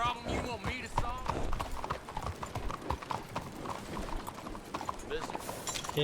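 Rhythmic clip-clop of horse hooves trotting at a steady pace in Red Dead Redemption 2, fairly close, with a voice talking over it and some mechanical clatter.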